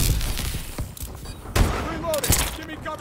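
Sniper rifle fire in a shooter video game crackles through dense battle noise, with several sharp reports and a louder pair of shots standing out amid constant rumbling combat sound.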